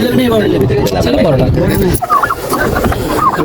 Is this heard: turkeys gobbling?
yes